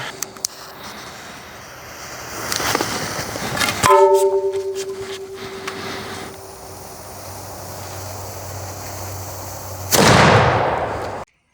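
A cannon loaded with 110 grain fires a single loud, sharp blast at an armour target near the end, preceded by a brief tonal whine and quieter background noise.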